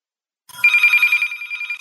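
A telephone bell rings loudly and close after a short silence, a steady trilling ring lasting over a second with no talk.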